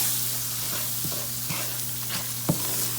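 Seasoned cube steak sizzles steadily in a frying pan, a continuous hiss with a few soft scrapes and taps from stirring, close and moderately loud, with no talk.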